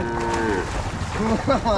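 A cow moos loudly and close by, a drawn-out low bellow that rises and falls over a faint background hum.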